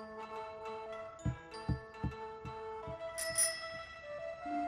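A bicycle bell rings briefly in a Spanish-language animated story, a short bright jingle that rises over soft music and low, steady thumping beats.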